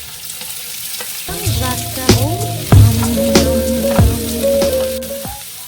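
Cabbage and other vegetables hiss and sizzle loudly in hot oil for fried rice, with a spatula scraping and clanking against the pan throughout.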